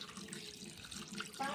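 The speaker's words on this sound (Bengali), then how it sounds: "এইভাবে এই আবার একবার জল দিয়ে দিচ্ছি" Tap water runs steadily into a bowl of flour dough being washed in a sink, a continuous close splashing and trickling with no talk.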